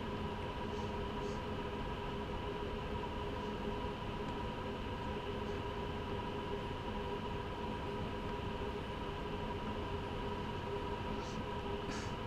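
A BR 187 locomotive in Train Sim World 2 keeps up a continuous rail rumble and steady motor hum, with faint higher squeaks now and then.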